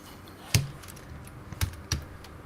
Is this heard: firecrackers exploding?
no